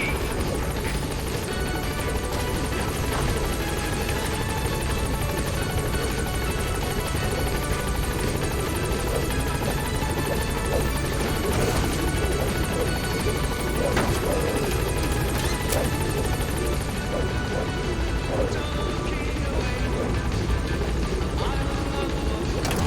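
The Pequod helicopter in Metal Gear Solid V approaches a landing zone, its rotor drone loud and continuous with a few sharp impacts, while radio voices talk over it.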